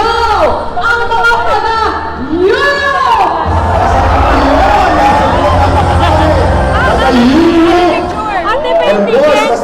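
A big outdoor crowd at a Jesus Is Lord Worldwide anniversary gathering in Luneta Rizal Park cheers and shouts loudly and continuously, with amplified voices carrying over the roar.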